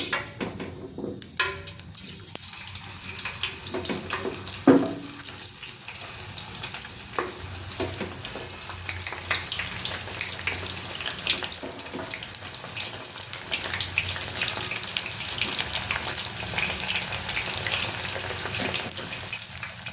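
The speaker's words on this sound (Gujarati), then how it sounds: "આપણું તેલ ગરમ થઈ ગયું છે, આપણે એમાં ફુલાવર ઉમેરી દઈશું" Cauliflower florets fry in hot oil on a medium-high gas flame, a constant hissing sizzle with a few clinks near the start, close and even throughout.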